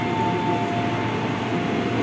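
A JR 205 series commuter train at a station, heard as a close, steady rumble and rolling roar of rail cars passing alongside, loud and continuous with no talking.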